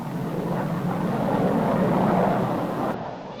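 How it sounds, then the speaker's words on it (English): Pan American passenger jet clipper airliner in flight, a broad, steady roaring rush that swells slightly and then eases off toward the end, with no voices present. "The first passenger jet clipper to fly the Atlantic."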